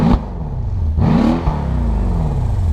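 Loud, close 5.5-litre twin-turbo V8 of a 2015 Mercedes E63 revving with a deep exhaust rumble, rising and falling in pitch through several throttle blips before settling into a heavy idle.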